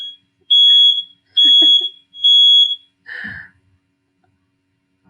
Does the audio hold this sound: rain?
no